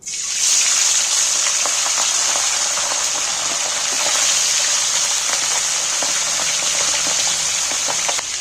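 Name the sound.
pomfret fish placed into hot mustard oil, frying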